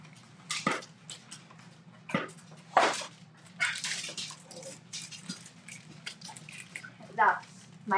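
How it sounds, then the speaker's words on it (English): A pet dog whimpers and yips in short, close bursts, interleaved with a person talking nearby indoors. "That's my dog."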